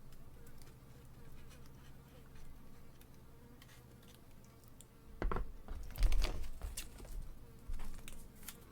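A fly buzzes about a room, a faint, wavering drone that drifts in and out, with a few sharp clicks and knocks close by near the end.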